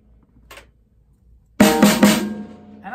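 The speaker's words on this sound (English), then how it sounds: "So I'm tightening the snares right now." Snares on a snare drum are tightened: a brief small mechanical rattle comes first, then three close, loud drum strikes with a ringing, decaying tail, and a faint fourth hit at the end.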